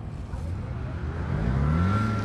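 An old Jeep Wrangler engine labours up a sand dune, a close rumbling drone that rises in pitch and strength toward the end as the revs climb.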